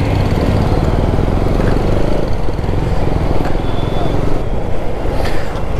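A scooter engine with a misfiring fault runs steadily and loudly close by during a test ride, its uneven engine rumble continuous throughout.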